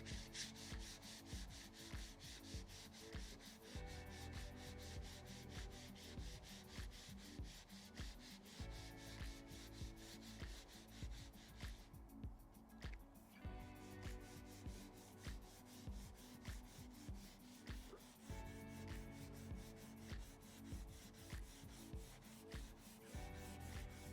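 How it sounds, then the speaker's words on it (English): Wet sanding of a stained surface with 100 grit sandpaper, a continuous close rhythmic rubbing rasp of steady back-and-forth strokes throughout. "we're going to try to do a little bit of wet sanding"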